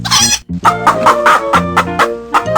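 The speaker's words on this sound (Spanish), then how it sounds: "¿Cómo hace la gallina?" A farm hen clucks in a quick series of short, rhythmic bursts, loud and close, with no talking over it.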